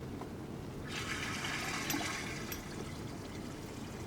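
Water gushes from a camper van's gray water tank as it drains, a faint steady rushing splash that swells for a couple of seconds and then settles into a low continuous trickle.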